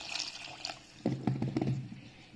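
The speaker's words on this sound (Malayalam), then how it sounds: "ഇതിന് ആവശ്യമുള്ള വെള്ളം ചേർക്കാം." Water is poured into a pot of rice porridge with three chillies before pressure cooking, a short splashing, trickling pour that starts softly and then briefly strengthens.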